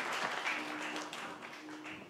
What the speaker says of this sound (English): can we please stand and give a warm round of applause to Dr. Chris Kipto